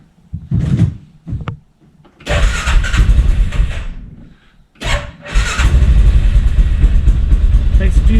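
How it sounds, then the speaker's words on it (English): A float-operated water pump, recently jammed by a stuck float, kicks on with a loud close rush, cuts out briefly, then surges again and runs steadily. "Pump kicked on."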